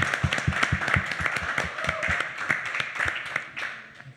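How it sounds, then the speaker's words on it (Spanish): Audience applause at a reunion event, a dense burst of clapping with sharp individual claps standing out, fairly close and steady for a few seconds before thinning out. "Un fuerte aplauso, por favor"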